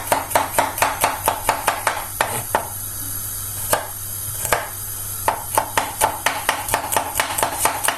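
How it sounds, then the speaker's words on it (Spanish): Garlic being chopped with a knife on a cutting board, a steady run of close, sharp rhythmic chops, a short pause midway, then more quick chops. "Picamos nuestro ajito."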